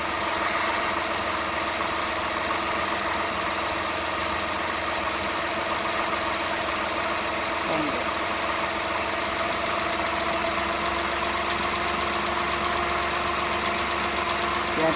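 Car engine idling steadily with a carburetor throttle adjustment screw being turned for a rich mixture, a constant loud mechanical drone running unbroken throughout.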